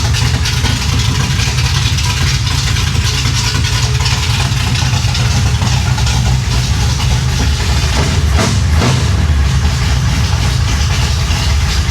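A 1966 Chevrolet Impala engine runs steadily with its muffler fitted, a loud, close, continuous low rumble with a brief disturbance partway through and no talking.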